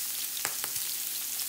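Shrimp burgers fry in hot, hopping grease, a steady bright sizzle with a few sharp pops and crackles standing out near the middle.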